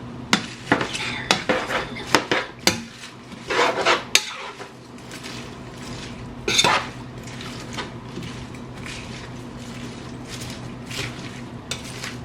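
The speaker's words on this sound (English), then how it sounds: "So let me get the cabbage on. The cabbage. Basically, stir it up just a little bit." A spoon scrapes and clanks against a pot while cabbage is stirred, a cluster of loud close metallic knocks up front, then a quieter stretch with occasional taps.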